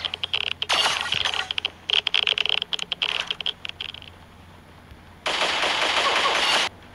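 Rapid bursts of automatic gunfire in the Pixel Gun 3D shooter game, loud and close, with stuttering volleys, a short lull, then a long sustained burst near the end.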